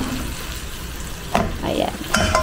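Ground beef frying in a pan while being cooked for a creamy lasagna, a steady low sizzle running throughout with a few short stirring scrapes, and a voice speaking briefly over it.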